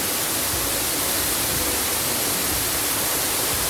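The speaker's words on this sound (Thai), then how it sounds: "น้ำตกของตลาดนัดเครื่องบิน" A waterfall at an airplane-themed market pours in a constant, broadband rush of falling water, steady and fairly loud throughout with no voices.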